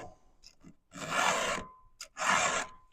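Two bursts of rasping metal filing on chainsaw teeth, each about half a second of scraping strokes, close and fairly quiet, with small clicks and light handling noises between.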